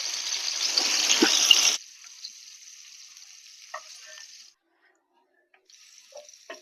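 Bitter gourd with garlic sizzles in a pan, a loud close frying hiss that cuts off after under two seconds, followed by a fainter sizzle and a few small clinks and scrapes.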